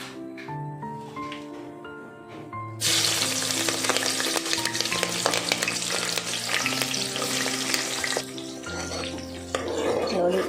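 Onions dropped into hot oil and ghee for tomato pulao, bursting into a loud, continuous sizzle after a quiet start, with music playing underneath.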